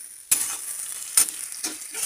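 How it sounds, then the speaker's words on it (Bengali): Onions frying in hot oil in a pan, a soft sizzle broken by a few sharp stirring clinks against the pan, close and fairly quiet, with no voices. "তারপর পেঁয়াজ ভাজলাম।"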